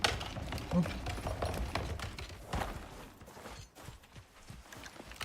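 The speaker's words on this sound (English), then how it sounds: "All horses. Horses everywhere." Rhythmic hoof clip-clops from several horses plod along continuously in the video game Icarus, mixed with game ambience and faint background voices.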